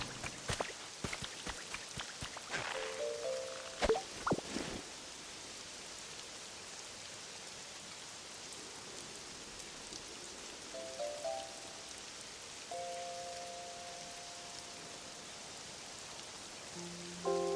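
Steady rainfall on surfaces in the video game Pokémon Pokopia, a constant soft hiss running throughout, with a few brief game chimes and tones over it.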